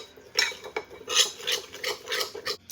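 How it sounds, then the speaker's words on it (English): A utensil stirs garlic, Italian seasoning and salt in a bowl, giving quick, uneven scraping clinks close by, with no voices. "Give everything a quick stir until well combined."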